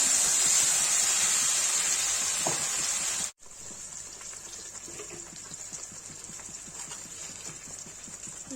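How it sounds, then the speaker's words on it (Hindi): Paste of onion, ginger, garlic, black pepper, cloves and cinnamon hitting a hot pan sets off a loud, bright hissing sizzle that cuts out abruptly, then continues as a softer, steady crackling fry with light scraping, alone. "इसमें जो प्याज, अदरक, लहसुन, गोल मिर्च, लौंग, दालचीनी का पेस्ट बना है डाल देंगे"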